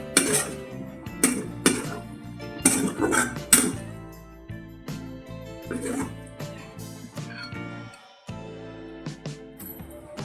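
A spoon clinks and scrapes against a pan as spiced kankoda and potato curry is mixed with garam masala and coriander-cumin powder, giving a run of close, irregular metallic knocks that thin out toward the end.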